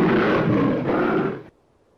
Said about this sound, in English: Our roars are very loud.